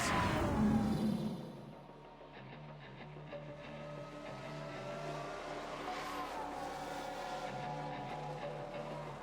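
A race car spins out in F1 Manager 22 during a 1995-season Benetton race: a loud engine note that drops away as the car loses grip, followed by steady engine drone and rising revs from other cars.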